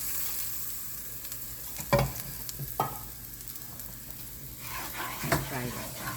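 Semolina frying in a pan for pineapple kesari, a soft continuous sizzle broken by a few sharp scraping stirs and clatters, close by.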